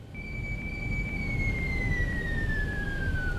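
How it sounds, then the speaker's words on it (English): Simulated aircraft tyres squealing under braking in X-Plane 12, a single sustained high-pitched squeal that slowly drops in pitch over a low steady rumble of rolling and engine noise, no talking. "if I was to stand on the brakes while we're slowing down the aircraft, you can hear that tyres squeaking in your headphones"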